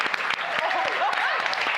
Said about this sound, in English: could we please take a moment, give a round of applause to my castmates?